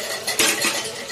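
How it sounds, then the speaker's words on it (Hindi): Dishes and utensils are washed by hand at a home sink, with several close, sharp metallic clinks and clatters of cutlery and pots over about a second. "यहाँ पे मम्मी और दीदी बर्तन धो रहे हैं"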